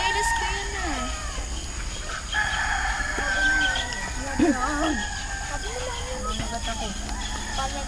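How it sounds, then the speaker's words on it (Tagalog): Roosters crow repeatedly and chickens cluck at a camping site in Porac, Pampanga, heard at moderate distance while people talk over them throughout. "Yan yung mga ibon."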